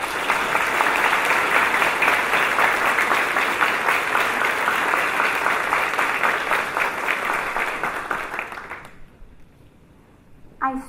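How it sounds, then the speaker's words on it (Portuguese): An audience at a community event gives sustained, dense applause that holds steady for several seconds before fading out and stopping, with no voices over it. "nós pedimos uma salva de palmas."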